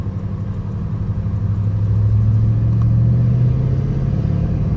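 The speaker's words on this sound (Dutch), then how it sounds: "Originele RS7 uitlaat." Audi RS7 idling through its original factory RS7 exhaust, a steady low rumble that swells slightly into a smooth, sustained drone with no one speaking.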